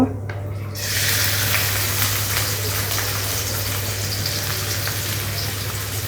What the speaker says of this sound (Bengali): তেলটি গরম হয়ে গেছে, আমি এখন এতে পরিমাণ মতো পেঁয়াজ কুচি দিয়ে দেবো।